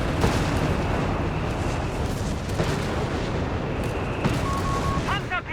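Artillery fire in Company of Heroes 3, a real-time strategy game, rumbles as a dense, continuous barrage of booms and blasts, loud and layered, with sharp bursts near the end.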